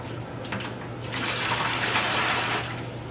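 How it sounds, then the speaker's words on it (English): Water runs into a clean bucket being filled for a fish tank, a steady broadband splash and rush that swells midway and tapers near the end, close by and alone without talk. "And then I'm gonna just fill my clean bucket."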